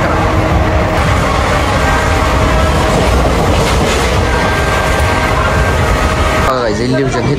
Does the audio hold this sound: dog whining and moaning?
no